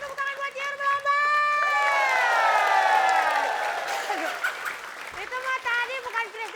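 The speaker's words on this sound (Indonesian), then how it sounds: "kita kasih tepuk tangan buat Ciur melambai" Studio audience applause on an Indonesian comedy show, crowd clapping beneath a long swooping sung or shouted voice, with some laughter and talk around it.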